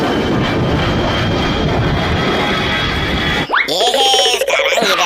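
A toy airplane in a children's clown comedy sketch roars with steady loud engine noise, then gives way to sweeping cartoonish whistles and boings.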